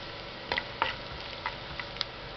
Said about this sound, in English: Next put ginger. Now mix it as well.